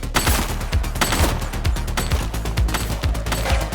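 Rapid, close gunfire in the police game The Precinct, a steady stream of sharp shots with a punchy low thump under each, continuing without a break.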